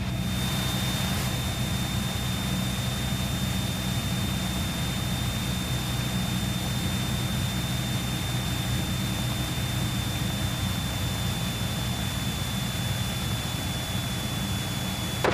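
Cessna 172S single-engine aircraft in flight between Cambridge and Bristol, a constant loud engine and propeller drone with a steady high whine, continuous from start to finish with no talk.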